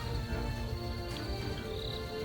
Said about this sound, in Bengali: ঝিঝি পোকার শিয়ালের ডাক